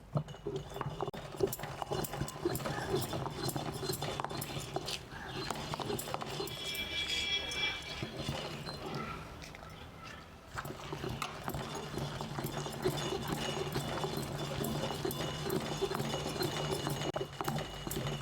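Soaked red chillies being coarsely ground for garlic chutney, giving a steady, close, rhythmic knocking and grinding that runs throughout, with a brief lull near the middle before it resumes.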